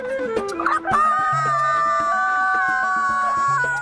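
A voice imitates a rooster's crow, a long, loud, sustained cock-a-doodle-doo with quieter sounds underneath.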